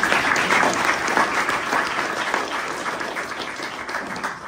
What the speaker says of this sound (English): let's give Alex a clap before we get started